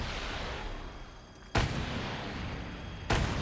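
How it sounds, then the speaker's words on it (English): Rocket launcher blasts in the video game Resident Evil 4 Remake sound as muffled explosions over a steady rumble, with two sudden booming hits spaced about a second and a half apart. "I'm shooting so many rocket launchers that the sound doesn't know what to do."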